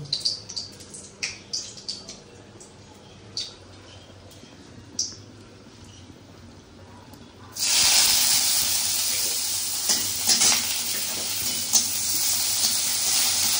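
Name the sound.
crushed garlic and dried chillies frying in oil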